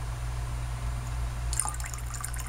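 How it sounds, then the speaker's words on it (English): Vodka pours into orange juice for a screwdriver cocktail in a short, faint liquid trickle and splash that starts partway through, over a steady low hum. "Pour in some vodka."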